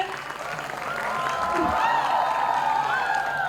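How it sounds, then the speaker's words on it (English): A crowd at a college event cheers and claps, the applause swelling after a quiet start into a sustained roar with whoops over it, loud and continuous. "Let's have a loud cheer."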